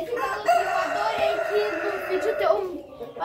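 A rooster crows on a muddy farmyard path, a drawn-out call with rising and falling harmonics, loud and close, with people talking over and around it.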